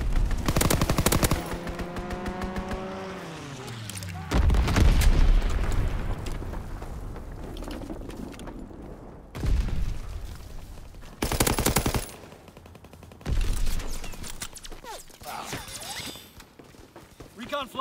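A fighter plane strafing a target in Call of Duty: WWII: a descending engine whine leads into heavy bursts of machine-gun fire and booming impacts, recurring in several loud blasts over background battle noise, with voices talking.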